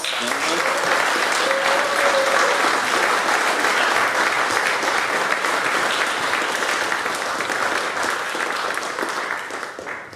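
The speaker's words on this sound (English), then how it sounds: "So give them a big round of applause." A conference audience gives sustained, dense applause that holds steady and loud for the whole stretch, thinning only slightly toward the end, with a faint voice briefly audible early on.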